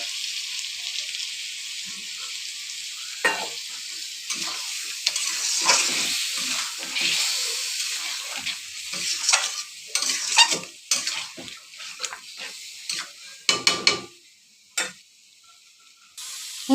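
Chicken frying with turmeric and spices in a pan, stirred steadily: a continuous close sizzle with repeated spoon scrapes and clinks against the metal, growing busier toward the end, with no talking.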